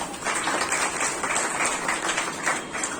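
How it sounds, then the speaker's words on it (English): Students and guests at a school Independence Day celebration applaud as high-scoring class 10 pupils are honoured, a steady, moderately loud patter of many hands with no clear voices on top. "A huge round of applause,"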